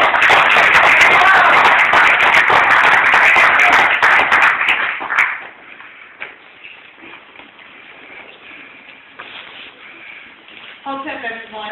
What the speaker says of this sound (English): let's give a big round of applause for Queen Halima.